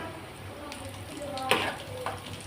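Pinwheel potato samosas fry in oil in a kadhai, a quiet bubbling crackle with a few sharper pops and scrapes as they are turned, while a voice talks faintly underneath.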